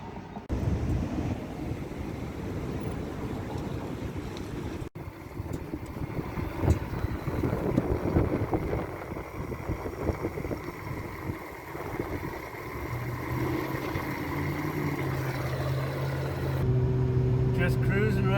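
A Toyota Celica with a faulty catalytic converter cruises at highway speed, giving a steady, muffled cabin rumble of engine, road and wind noise throughout.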